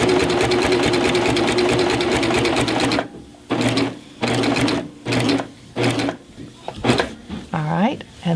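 A sewing machine fitted with a walking foot stitches binding onto a quilt, a loud rapid mechanical whir that runs steadily, then breaks into short stop-start bursts with clicks between them.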